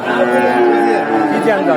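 A young cow, about ten to twelve months old, moos at a livestock market in Talgachhi, Sirajganj. The low, drawn-out call is loud and close, with market voices faintly behind.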